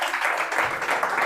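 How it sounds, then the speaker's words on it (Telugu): Loud applause from an audience at a Telugu Christian gathering, a dense, steady wash of many hands clapping that fills the whole brief moment. "గట్టిగా చప్పట్లు కొడదాం"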